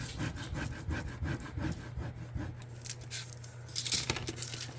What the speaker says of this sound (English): Applying firm pressure, and I scrape in different directions.